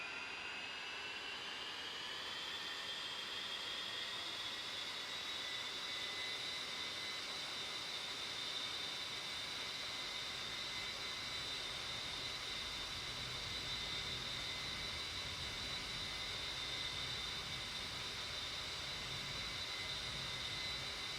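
Jet aircraft engine spooling up for takeoff in the DCS flight simulator, a steady whining roar with a rising tone in the first few seconds, then holding a smooth, even drone throughout.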